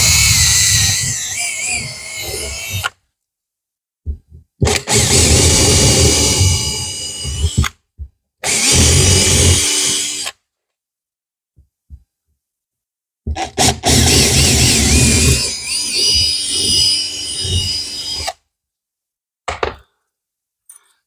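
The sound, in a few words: power drill drilling holes in a wall for a radiator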